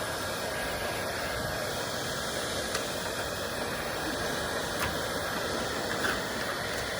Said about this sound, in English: This is not quite the blowgun from my compressor I would normally use, but for what we're doing, we're trying to dry this out